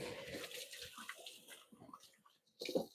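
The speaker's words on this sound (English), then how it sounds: "I'm going to wash my hands." Hands being washed under running tap water in a home kitchen, an uneven splashing rush that thins toward the end, then a short louder burst of water.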